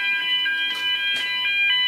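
A fire alarm sounder going off during a test gives a loud, continuous high-pitched electronic tone with pulsing warbles and a couple of brief bursts of noise.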